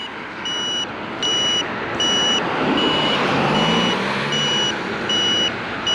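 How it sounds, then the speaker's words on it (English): Brakes of an AULOOR F9 folding eBike squeal with repeated high tonal beeps, loud and continuous against road and wind noise, with a lower groan rising midway through. "Brakes are pretty loud."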